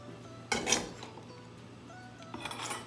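Tomatoes, mozzarella and basil tumble into a bowl in two quiet bursts of clinks and soft knocks against the dish, the first busier than the second, with near silence between them.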